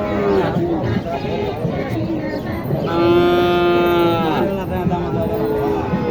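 Cattle at a rural livestock market in Naogaon, where small bull calves are sold, moo loudly from close by, with one long drawn-out low call in the middle over a constant murmur of voices and market bustle.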